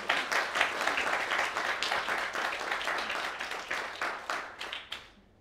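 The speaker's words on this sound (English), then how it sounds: "please give a warm round of applause for Donna Rutherford" A conference audience applauds in a dense, steady burst of clapping that gradually thins out and fades after about five seconds.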